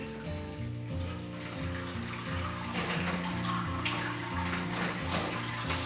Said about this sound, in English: I'm going to raise it to the next level and put my rinse water in